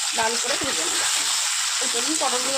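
Pointed gourd fries in oil in a pan after turmeric powder and salt go in, giving a steady, loud sizzle and hiss while someone talks over it.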